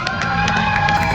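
A crowd at a hypnosis show in Bakersfield, California, cheers and whoops loudly for the participants on stage, a dense sustained roar of voices with shrill shouts rising above it.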